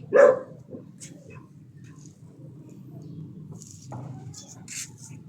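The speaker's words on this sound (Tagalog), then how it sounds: "Ay, may aso." A single loud dog bark at the start, followed by quieter background sounds and faint chirps.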